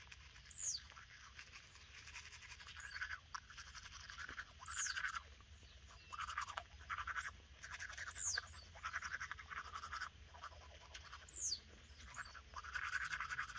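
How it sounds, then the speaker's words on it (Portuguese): Fast toothbrush scrubbing on teeth, a steady close wet bristle rasp with regular brisk strokes and no voices. "Eu não sei se o meu jeito de escovar tá correto, porque eu tô indo rápido"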